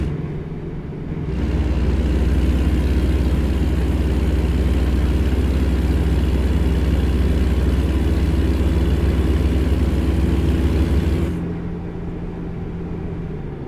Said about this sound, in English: Now you heard the engine brake a little bit better there.